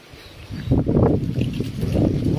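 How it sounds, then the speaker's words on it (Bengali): Strong wind rises ahead of rain under heavy clouds, buffeting the microphone with a loud, low roar that swells after a quieter start and keeps blowing. "প্রচন্ড বাতাস উঠেছে"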